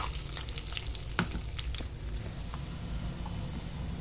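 Cumin, tempering spices, curry leaves and peanut kernels fry in cooking oil, a close, steady sizzle with scattered crackles and pops and a few sharper sputters, heard without any talk.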